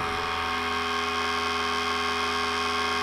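A disposable tattoo pen machine runs at 8 volts with a steady, close, continuous buzzing hum and a slightly rattly edge, unbroken throughout.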